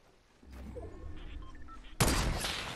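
Gunfire from a sniper match in the video game Fortnite Battle Royale: muffled game noises, then a sudden loud shot at about two seconds with its crackling echo trailing off.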